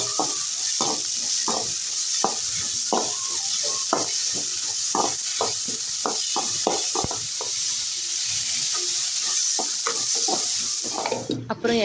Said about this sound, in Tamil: வெங்காயம் கொஞ்சம் அதிகமாக போட்டு நல்லா ஃப்ரை பண்ணிகிட்டே இருக்குங்க.